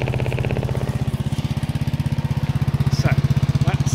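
Honda S-Wing 125 scooter fitted with a Turbo Kits exhaust, baffle in, idling with a steady low pulsing putter close by, then catching a couple of brief throttle blips near the end.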